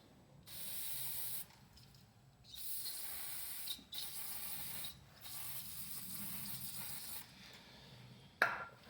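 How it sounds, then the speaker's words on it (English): Brake cleaner sprays onto brake contact parts during a brake pad service in bursts, several close hissing blasts separated by short pauses, with a faint clink near the end. "Always give a little spray of brake clean and clean your contact parts."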